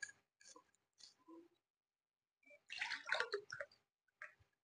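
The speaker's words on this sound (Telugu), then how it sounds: "ఈ 300 ml గ్లాస్తో ఈ వాటర్ 2 గ్లాసుల వాటర్ పోసుకుందామండి" Water poured from a 300 ml glass into a pot, two glassfuls for meal maker rice in a cooker, comes as several short splashing bursts with gaps, then a longer gurgling pour and a final brief splash, close and fairly quiet.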